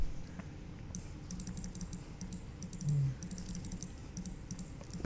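Typing on a computer keyboard comes in scattered bursts of light key clicks against a steady low background hum, close and fairly quiet, with no talking.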